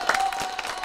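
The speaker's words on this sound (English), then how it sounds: "give her a round of applause over there" Audience applause breaks out at a senior night event, a dense burst of clapping that fills the whole brief moment at steady, fairly loud level.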